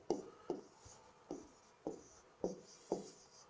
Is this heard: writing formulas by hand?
yes